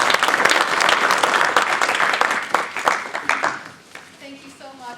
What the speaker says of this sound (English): Give Linda a big round of applause